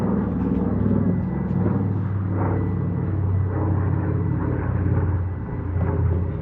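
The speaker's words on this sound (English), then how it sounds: "Got interrupted by this beautiful World War II transport plane." A World War II transport plane drones overhead, a steady low propeller rumble with broad engine noise that holds fairly loud and constant throughout, without talk.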